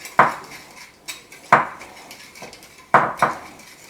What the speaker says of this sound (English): Now you just want to whisk that up.